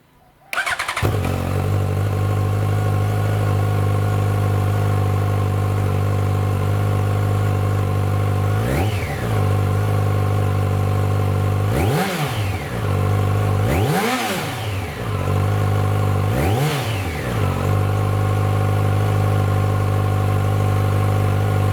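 A stock-exhausted 2006-2010 Yamaha FZ1 motorcycle starts up and settles into a steady, loud idle, then rises in four sharp free revs, reaching about 7,000 RPM, with the later blips spaced close together before it drops back to idle.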